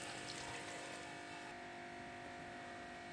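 Steady rushing water poured into a cooking pot of desi chicken karahi masala with onions and tomatoes, a dense hiss that stays level for a few seconds with no voices.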